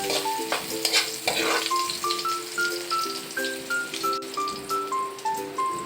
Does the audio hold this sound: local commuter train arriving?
no